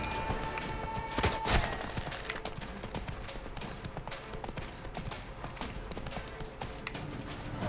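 Horse hooves gallop in The Witcher 3, a fast, dense clip-clop of rapid thudding beats running steadily and loudly throughout, with game ambience underneath and no talk.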